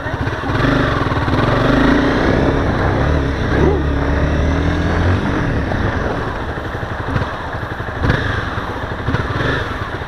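A motorcycle on a licence road test accelerates through marked curves, its engine droning loud and near for the whole stretch with pitch rising and falling as it revs.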